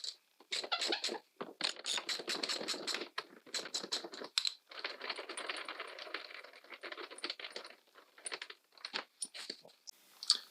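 Nuts being worked off tow-bar bolts on a Volvo 145: dense, close metallic clicking and rattling in rapid bursts, with short pauses and one sharp clink near the end.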